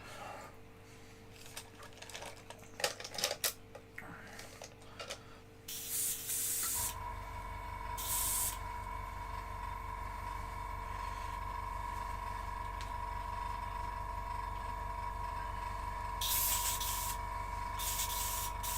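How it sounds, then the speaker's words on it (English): Airbrush cleaner sprayed from a can in a few bursts, bright hissing blasts over a steady background hum, following some earlier rustling and handling noises. "I just had the airbrush cleaner."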